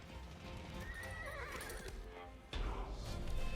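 Horse hooves clip-clop and neighs ring out from horse archers in the video game Age of Empires 4, a short close burst of whinnying over galloping with a louder surge near the end.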